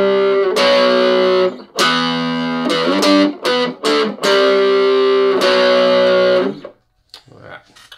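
Distorted electric guitar plays the riff as power chords stepping down the neck: loud sustained chords broken by short choppy stabs, ending in a brief fading buzz.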